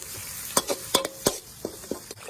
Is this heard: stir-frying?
yes